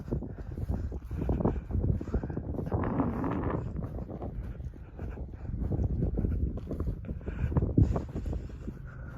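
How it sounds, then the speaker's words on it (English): Steady wind buffets the microphone in a continuous low roar, rising and falling in gusts with no voices, in Cuneo, Italy. "It is quite windy on this side though."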